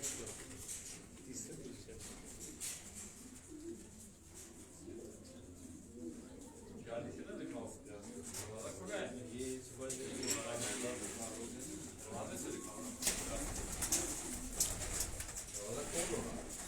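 Racing pigeons coo softly and steadily in a loft cage, a continuous low murmur of birds with faint chirps, while someone talks over them throughout.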